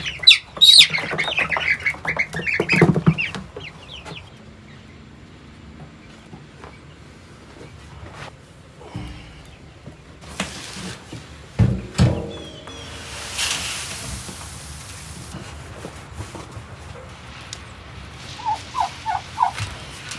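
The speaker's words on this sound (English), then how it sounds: "I've got to move the chicks" Large young poultry chicks squawk and call loudly while being moved, with bursts of cries, scattered clattering and handling noises between the calls, and quieter stretches.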